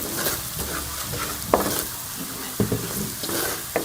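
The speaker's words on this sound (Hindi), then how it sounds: "सारे मसालों को जो है वो हम अच्छी तरह से प्याज के साथ भून लेंगे।" Onions and spices fry in a pan for a chicken liver masala, a steady sizzle broken by several sharp scrapes and knocks of a spoon stirring against the metal.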